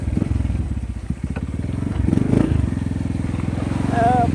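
A motorcycle pushes through deep floodwater, its engine chugging in a close, loud, rapid pulse, with splashing and clatter throughout and a brief voice near the end.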